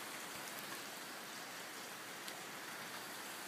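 Steady rain falling and pattering on surfaces, a dense even hiss that continues throughout with no voices.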